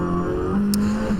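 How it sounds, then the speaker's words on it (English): A TCR touring race car weaving to warm its tyres on track at Oschersleben during an ADAC TCR Germany race, its engine holding a steady, fairly loud drone with slight pitch shifts. "So Jess Bachmann just getting some heat into the tyres"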